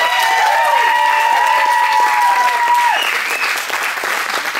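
A wedding reception audience applauds and cheers loudly and continuously, with a sustained musical tone ringing through the first few seconds before cutting off.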